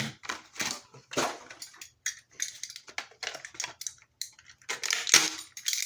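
Scissors cut through plastic strips on Bakugan toy packaging, giving a series of sharp, close snips and crunchy clicks in an uneven rhythm with brief pauses between cuts.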